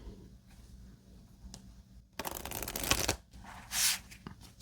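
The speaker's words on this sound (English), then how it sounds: "These cards are so funny to handle." Jumbo playing cards being handled and shuffled close up, soft papery rustles building into a dense riffling burst and a bright flutter, with quiet handling between.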